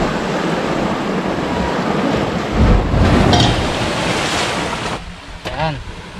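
Ocean surf breaks and splashes right against someone in the water off Occidental Mindoro, a loud broadband wash with a heavier surge midway, then quieter water with a voice briefly audible near the end.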